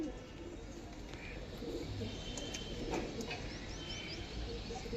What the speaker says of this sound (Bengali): দেখুন আর বড় বড় পায়রা